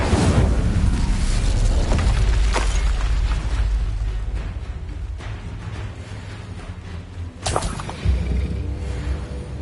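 Incendio fire spell cast in Hogwarts Legacy amid spell combat, a loud fiery whooshing burst that fades, followed later by another sharp burst.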